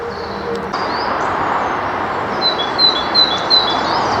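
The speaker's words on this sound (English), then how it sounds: "Last calls of a great tit now." A great tit calling in mixed woodland in spring, a few thin high repeated notes at moderate distance over a steady outdoor background hum.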